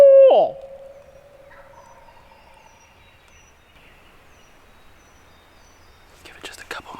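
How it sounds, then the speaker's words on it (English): A wild turkey gobbles once, loud and close, on public land in Alabama, then fades into a quiet stretch with faint distant calls and some rustling near the end. "he sounds good. I don't know if y'all can hear him on there, but he's gobbling a lot"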